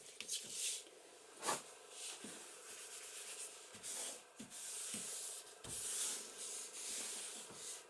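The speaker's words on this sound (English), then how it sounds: "And burnish that down." A folded paper pocket edge in a junk journal being burnished down by hand, a soft close rubbing and scraping in uneven strokes with a few light taps, faint and with no talk.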